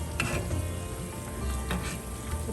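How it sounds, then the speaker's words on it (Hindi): Fried modak for Ganesh Chaturthi sizzle steadily in hot oil, a dense, even crackle that runs close and continuous throughout with a few faint clinks and no voices. "हमें 4-5 बार फ्लिप करके फ्राई करना है"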